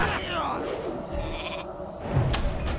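A sheep bleats in World of Warcraft Classic amid game sounds and other noise, a short wavering cry that comes through loud and close.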